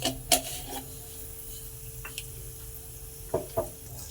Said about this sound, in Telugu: కొంచెం మెంతులు వేసే కదండి. చిట్టపట అన్నాక కొంచెం ఆవాలు,